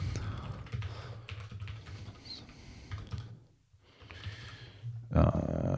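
Someone types on a computer keyboard in rapid, uneven bursts of close key clicks, pausing briefly before a louder clatter of keys at the end, with a voice speaking quietly in between.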